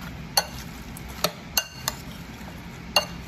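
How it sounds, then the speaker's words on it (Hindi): Spoon stirring and mixing potato chaat with coriander leaves and lemon juice in a bowl, a few sharp clinks of the spoon against the bowl scattered over a soft background hum, no voices. "अब इसे स्पून से अच्छी तरह से मिक्स कर लेते हैं।"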